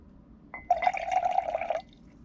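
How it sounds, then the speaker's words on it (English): Liquid trickles into a glass in a short, gentle pour, a brief tap-like onset followed by a bubbling, splashing stream lasting just over a second before stopping in a quiet room. "Let's pour a little bit of liquid out of this truth glass here"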